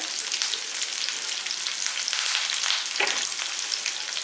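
Shallots and curry leaves fry in a pan, giving a loud, bright, unbroken crackling sizzle close up with no voices.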